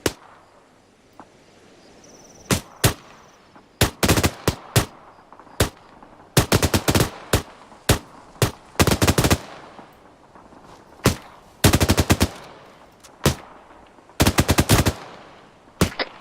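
Gunfire in the ArmA 3 military video game during a British milsim section training: loud, sharp shots in single cracks and rapid bursts, irregularly spaced across the whole stretch, close and dominant over a faint background.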